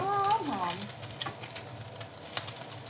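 Beaten eggs frying for a Thai-style omelette give off a soft, steady sizzle with faint crackles, quiet and close, after a brief spoken voice at the start.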